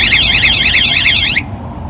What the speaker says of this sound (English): Anybody trying the lock, touching the lock, anywhere on this area will activate a 2-second alarm warning.